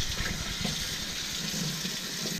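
Tap water pours steadily over wild partridge legs as they are rinsed in a sink, producing a close, continuous gushing splash that ends abruptly.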